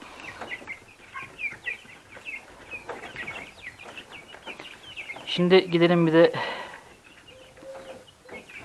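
On a farm, chickens give a short clucking call in the middle while a person talks throughout, with the bird sound partly under the speech.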